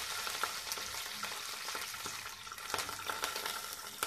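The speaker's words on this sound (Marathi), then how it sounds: "लसूण जरा परतला गेला पाहिजे। मिरची आणि कढीपत्ता" Garlic, green chillies and curry leaves fry in hot oil in a pan for a spring onion pitla, giving a steady, close crackling sizzle with sharp pops and spits scattered throughout.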